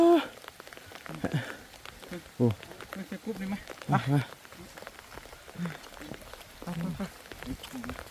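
Steady rain patters and drips on a nearby surface while people talk and call out over it.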